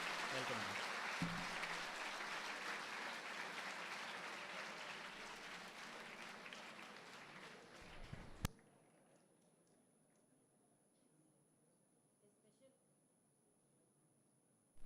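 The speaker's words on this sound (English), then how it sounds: "please give a warm round of applause as I welcome our Honorable Governor Ma'am" An audience gives a warm round of applause to welcome the Governor at an anniversary event, steady dense clapping that fades gradually and then cuts off abruptly into near silence.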